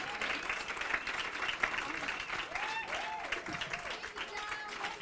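Applause from a symposium panel audience, a steady dense wash of clapping that holds for several seconds, with a few voices calling out over it.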